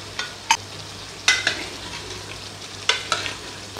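Chicken fries in a pan under a soft sizzle, broken by a few sharp scraping clacks as a spoon stirs it at irregular intervals, close and fairly loud.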